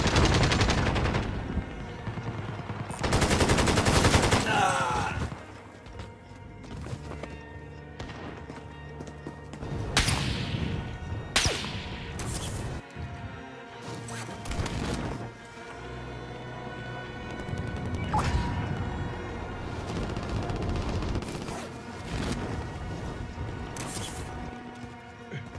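Shotgun blasts and rocket launcher fire in a video game, loud repeated bursts of gunfire and explosive booms that come in clusters across the stretch, with quieter gaps in between.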